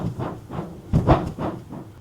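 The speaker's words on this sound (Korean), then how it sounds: "이 출렁거리는 소리 들리시나요?" An air mattress sloshes and creaks in slow, uneven pulses as weight shifts on it, several soft rolling surges with a louder swell in the middle, close by and with no talk.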